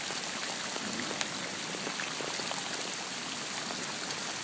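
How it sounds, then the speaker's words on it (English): A dense, steady hiss of heavy rain pours down without a break, with scattered droplet spatters. "It's still pouring rain."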